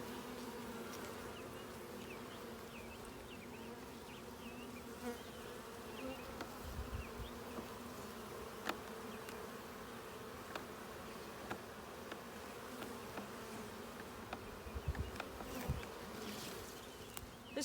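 Honey bee swarm buzzing around a hive box, a constant droning hum of many bees close up, with faint scattered taps and knocks beneath it.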